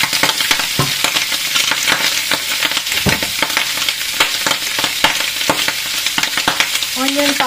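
Food frying in oil in a pan as garlic powder is added, with a steady loud sizzle and repeated scraping stirs throughout, no talk.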